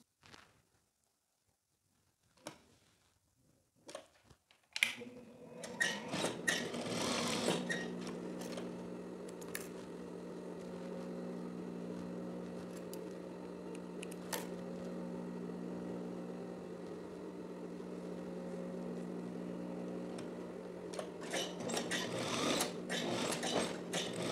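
A sewing machine stitches the front of a teddy jacket. After a few seconds of quiet handling and taps, its steady, close mechanical whir runs continuously for nearly twenty seconds with small knocks.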